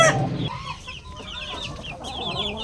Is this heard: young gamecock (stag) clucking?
yes